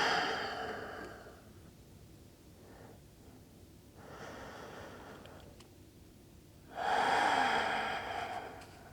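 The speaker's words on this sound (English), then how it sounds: "take 2 more deep breaths in and out" Slow, deep breaths drawn in and let out during a vinyasa yoga class, with two long airy inhale-exhale cycles and a louder final exhale heard close up in a quiet room, with nobody speaking.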